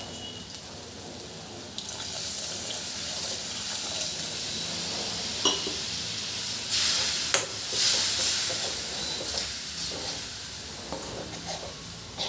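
Cashew mushroom curry simmers in a pot, giving a soft bubbling hiss with scattered pops and a few louder surges of steam and bubbling, and nobody speaks.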